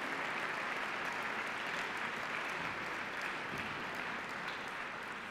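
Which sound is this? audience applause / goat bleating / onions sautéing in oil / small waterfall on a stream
audience applause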